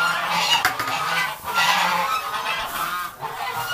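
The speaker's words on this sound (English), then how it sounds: "Oh, I hear a goose." A goose honks loudly and close by, in a string of harsh, repeated calls running almost continuously with only brief dips.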